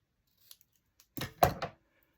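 Scissors trim a paper number for a handmade ephemera piece, giving a few faint ticks and then a short burst of close, crisp snips lasting about half a second.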